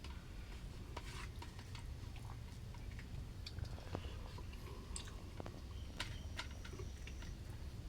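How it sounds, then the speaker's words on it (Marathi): Close, faint chewing and mouth sounds while someone eats stuffed brinjal curry with rice, with soft irregular clicks over a low background hum. "तर मी आता तुम्हाला त्याची चव घेऊन दाखवतो"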